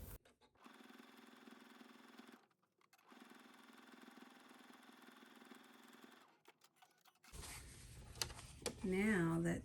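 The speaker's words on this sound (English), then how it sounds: "now you want to understitch on one side of the strap" A sewing machine understitches one side of a strap in two long, steady runs with a short pause between them, then a voice starts talking near the end.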